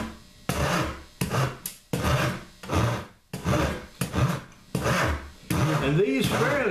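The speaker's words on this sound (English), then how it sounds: "So we're going to work it down with these three rasps." Rasps filing a carved wooden stock for a Brunswick rifle, heard up close as loud, rhythmic scraping strokes in regular bursts, each separated by a brief pause.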